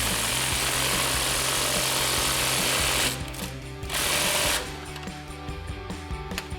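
Suspension bolt on a RAM 1500 lift kit install being tightened with a 24mm socket on an impact tool, a loud continuous rattling hammer that runs steadily, stops briefly twice and resumes, with no talk.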